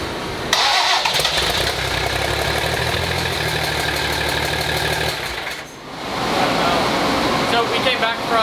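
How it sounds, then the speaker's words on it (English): A diesel race vehicle's engine cranks with a whirring starter for several seconds, briefly dips, then catches and roars up loudly at close range. "Start it up real quick."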